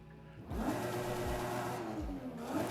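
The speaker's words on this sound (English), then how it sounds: "Let's check the next one, the sport exhaust" Sport exhaust on a 900 hp widebody Toyota Supra in Forza Horizon 5 drones in a steady, smooth rev, with the pitch holding and gently shifting. It plays quietly on its own.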